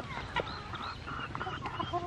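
Rhode Island Red chickens cluck and chatter in a farm setting, a cluster of short overlapping calls close by with steady background noise and no talking.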